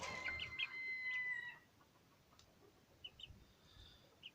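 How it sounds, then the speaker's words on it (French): A young rooster crows once, loud and close, its strained call breaking off after about a second and a half, followed by faint clucks and quiet farmyard ambience. "Donc Gribouillis qui est un jeune coq maintenant"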